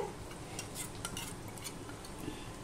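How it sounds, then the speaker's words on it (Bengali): Potatoes frying in a pan while being stirred, a steady close sizzle broken by scraping and clinks of a utensil against metal, no voices. "এবার আলুটাকে আমি ভেজে নেব।"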